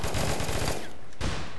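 Rapid automatic gunfire crackles in the video game APB Reloaded, a fast loud burst of shots that breaks off briefly and then resumes.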